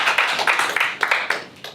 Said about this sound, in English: let's give a warm round of applause to Professor Lehe